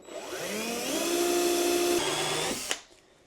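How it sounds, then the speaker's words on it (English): A power drill bores a 3/4 inch hole during a kayak accessory install, its motor whining steadily and loudly for about two and a half seconds, rising slightly in pitch, then winding down with a sharp click at the end. "we have our 3/4 inch hole drilled"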